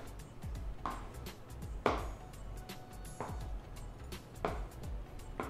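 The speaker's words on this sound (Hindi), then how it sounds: "इस तरह से क्यूब्स में काट लें," A knife chops regular frozen paneer into cubes on a cutting board, giving four or five distinct, fairly close cuts at an even pace with short pauses between them. No voices are heard.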